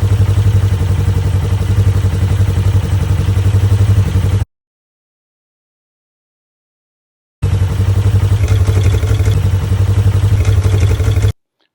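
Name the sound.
Polaris motorcycle engine running with Hunterworks quiet primary drive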